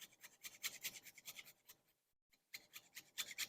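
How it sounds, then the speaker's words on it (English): Whole nutmeg grated by hand for an egg nog custard, a quiet close rhythmic rasping of quick scraping strokes, with a short pause midway before the grating resumes. "And then I'm just going to grate some nutmeg in here."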